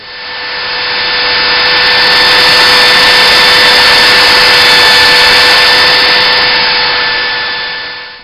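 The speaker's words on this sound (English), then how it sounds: "And by that I mean the electric belt sander" An electric belt sander grinds a steel saw blade being shaped into a fillet knife, a loud, steady whining roar with strong tonal hum, spinning up at the start and running continuously for over eight seconds alone.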